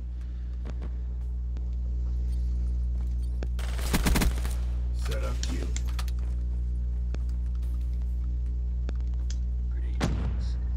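Gunfire crackles in a Call of Duty Black Ops 3 multiplayer match, a short loud burst of shots around the middle, then another sharp volley near the end over a steady low background hum.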